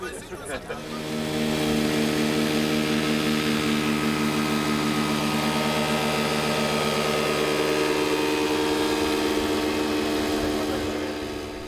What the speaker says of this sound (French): la seule voilure tournante que nous ayons vue en action fut ce gros bel UH-1G appartenant à Roger Parrish